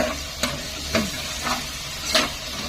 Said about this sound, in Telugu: ఆనియన్ కూడా కొంచెం లైట్గా బ్రౌన్ అయ్యాక పచ్చిమిర్చి యాడ్ చేశాను